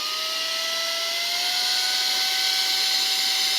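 A VOGMA VMonster V7 air duster inflates a bicycle inner tube through its valve, a loud, steady close-up blowing roar with a whining tone that rises slightly in pitch as the tube fills, with no talk.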